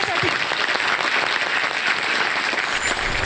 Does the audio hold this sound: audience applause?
yes